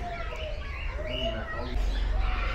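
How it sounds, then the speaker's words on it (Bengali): Many birds of several species gathered together in a zoo aviary at feeding time, a busy mix of chirps and calls over a low rumbling background, with people talking nearby. "সব খাবার খেতে এসেছে একসাথে, প্রচুর পাখি।"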